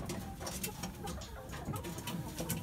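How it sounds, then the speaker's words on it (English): Hens settled on their roosts inside a coop at night under a small 12-volt work light, giving soft, low clucks and murmurs with scattered rustling and shuffling against a steady background. "A few birds on the floor here."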